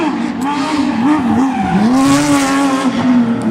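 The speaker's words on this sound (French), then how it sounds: "on vous laisse profiter du bruit, de la bande son de cette 911" A Porsche 911 rally car engine roars loud and close at a rally, its pitch climbing and dipping as the driver works through the revs, with a hint of tire squeal.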